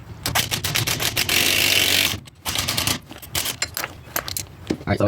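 An impact wrench hammers on a bolt-on wheel hub assembly to push the axle through, close and loud in short rattling bursts with one sustained run, separated by clanks of the tool.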